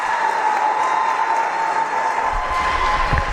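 Crowd at a UNX competition final applauding and cheering, a steady wash of clapping with a low rumble building near the end, loud and continuous.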